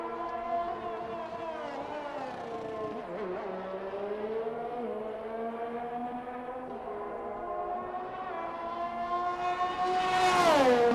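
A sim racing car revs on an out lap at Bahrain, a steady buzzing engine whine climbing and dipping through gear changes, rising to a loud high-pitched scream near the end with no talking.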